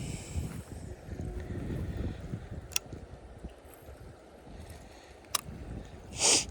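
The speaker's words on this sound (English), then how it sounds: "It's a little windy out here." Steady low rumbling wind buffets the microphone outdoors, with a few sharp clicks and a brief hiss near the end.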